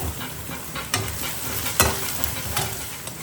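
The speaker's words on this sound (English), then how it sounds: "So this we have to fry long time. Onion should become brown." Onion and tomato frying in a pan, a steady close sizzle with scraping stir strokes every second or so, no voices.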